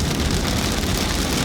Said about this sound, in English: wait for it to stop raining